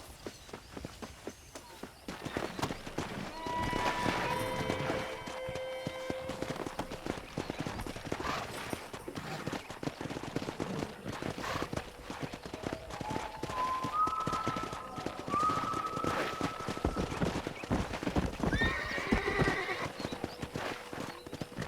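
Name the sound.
horses galloping and neighing in video game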